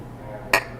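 Beer mugs clink together once in a toast, giving one sharp, bright ring that stands out above a low background hum.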